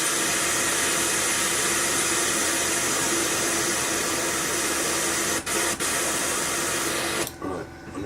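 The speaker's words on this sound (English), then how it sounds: "A little bit airbrush cleaner through the brush" Airbrush cleaner blasts through an airbrush as a steady, loud, broadband hiss lasting several seconds, briefly interrupted twice near the end, then cutting off into quieter room tone.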